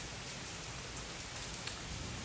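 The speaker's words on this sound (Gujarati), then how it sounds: "અમારે વરસાદ ચાલુ છે" Steady rain hiss fills the whole clip, a dense even wash of falling drops with no voices, fairly quiet and continuous.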